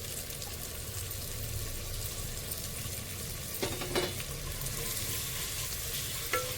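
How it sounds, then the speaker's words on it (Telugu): Onion pieces fry with coriander, mint and curry leaves in oil, giving a soft, even sizzle at moderate distance, broken by a few sharp scrapes and knocks of a spoon stirring; nobody speaks. "ఇట్లా ఉల్లిగడ్డ ముక్కలు మధ్య మధ్యలో కలుపుతూ ఉండాలి"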